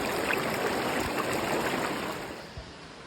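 A river flowing past an old concrete bridge foundation on a tramping trip, a steady broadband rushing wash that fades slightly toward the end, with no voices.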